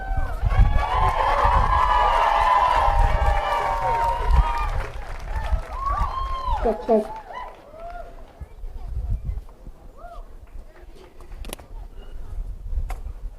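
Outdoor crowd at a climate strike rally applauding and cheering loudly, with shouts and whoops over sustained clapping that fades after a few seconds into scattered voices and quieter talk.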